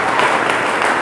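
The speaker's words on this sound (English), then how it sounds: "You must clap for them." Applause from a classroom audience after a student debate, a dense continuous patter of clapping hands at steady loudness throughout, close by and without speech.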